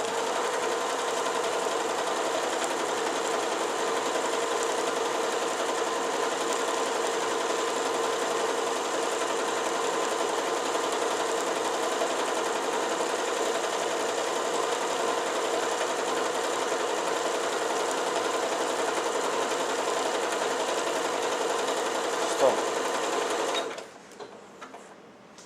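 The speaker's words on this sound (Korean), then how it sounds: "스타트 버튼 그대로 눌러서 한번 박아 보겠습니다." An Elna 740 sewing machine runs a programmed quilting stitch, a steady fast mechanical whir with rapid needle clatter held at an even pace for about 23 seconds before stopping abruptly.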